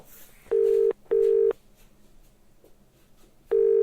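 Telephone ringback tone: three steady, close beeps, two in quick succession, then a pause before the third starts.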